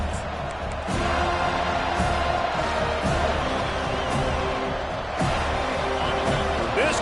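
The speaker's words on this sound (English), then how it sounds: "This crowd bringing the energy and noise early" A college football stadium crowd roars steadily through a punt return, a broad sustained wash of cheering and noise with scattered shouts, loud and continuous.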